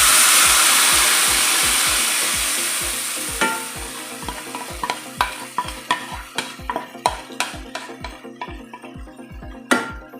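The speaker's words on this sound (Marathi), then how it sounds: "हे जे तांदूळाच्या पिठाचं मिश्रण तयार केलं हे हळूहळू घालायचं आहे" A rice flour and buttermilk mixture is poured and stirred into a sizzling turmeric tempering in a pan, the frying hiss fading as regular scraping stir strokes take over, close and steady.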